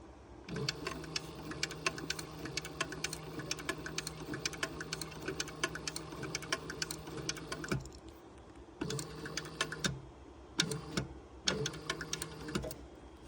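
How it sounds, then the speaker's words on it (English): A sewing machine stitches a leather handbag handle in rapid, steady bursts of needle clatter, running continuously for several seconds, then stopping and restarting in shorter runs, close and clear with no talk. "When I am stitching this, I like to sew from the back side, and I start my needle just to the edge of the leather."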